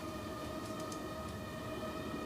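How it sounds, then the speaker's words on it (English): A train passes outside a building, a steady, continuous rumble with a sustained tonal hum that holds evenly for the whole stretch, fairly distant and alone with no talk. "Must be a train outside."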